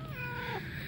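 A cat meows once, close and clear, in a short rising-then-falling call in a backyard.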